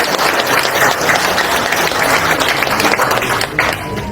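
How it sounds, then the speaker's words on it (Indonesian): Audience applause at an Indonesian political gathering, a loud, dense wash of clapping that holds steady for about four seconds with a few murmurs underneath. "sekali lagi tepuk tangan untuk semangat itu"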